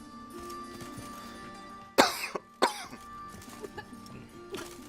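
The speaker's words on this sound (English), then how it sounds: "Sorry for coughing." Two sharp, close coughs land about half a second apart against a quiet, steady background hum, with a few faint clicks afterward.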